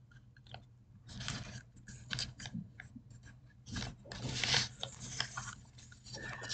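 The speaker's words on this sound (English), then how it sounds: "We're going to fold the center up like this" Paper creased and folded by hand into an origami Spanish box, giving close, crisp crinkles, rubs and sharp snips of paper handling in an irregular rhythm, quiet and intimate with no talk.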